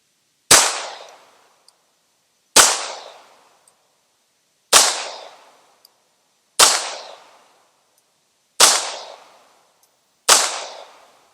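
A Bersa Thunder .380 pistol fired at a shooting range: six loud, sharp shots close by, evenly spaced about two seconds apart, each with a short decaying ring and no talking in between.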